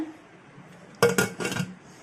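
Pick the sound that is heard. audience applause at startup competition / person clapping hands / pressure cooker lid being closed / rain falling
pressure cooker lid being closed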